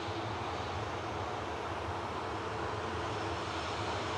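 At Manchester Airport, Jet2 aircraft JZBF sits lined up on runway 23 left ready for takeoff, its jet engines giving a steady, broad roar that holds at an even level throughout, distant and moderate, with no voices.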